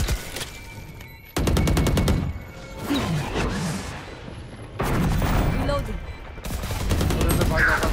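Valorant gunfire arrives as loud bursts of rapid automatic shots in several separate volleys, with brief gaps between them. In-game voice lines and a player talking sit under and between the shooting.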